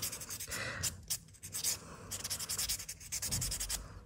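A nail file rasps back and forth across fingernails in quick, faint, close scratchy strokes with brief gaps during a manicure.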